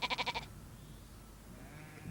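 A sheep in an animated rural cartoon gives a quick, wavering bleat in several rapid pulses, loud and close, followed by quiet background ambience.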